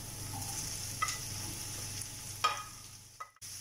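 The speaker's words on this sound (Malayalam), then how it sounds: "നന്നായിട്ടൊന്ന് വഴറ്റി കൊടുക്കാം ഇനി ഇതിലേക്ക് ഉള്ളി ഇട്ട് കൊടുക്കാം" Onions sautéing in a pan for Kerala-style prawn roast, a soft, steady sizzle with a few clinking spatula strokes and a brief gap near the end; fairly faint, no talking.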